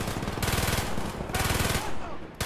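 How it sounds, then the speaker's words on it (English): Rapid bursts of automatic gunfire from the Call of Duty Black Ops video game, two dense rattling volleys close and loud with a short pause between them. "Now we're just shooting everybody, okay."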